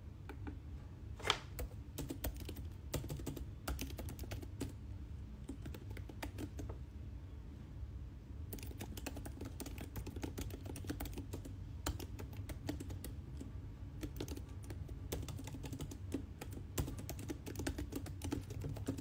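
Quiet typing on a computer keyboard, with quick irregular clicks and clatters that run for almost twenty seconds, broken by one short pause, soft and close with no voices.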